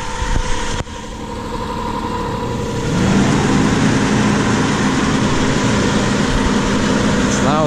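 A Pathfinder's engine rumbles steadily at idle, loud and close, its pitch settling after a brief rev near the start.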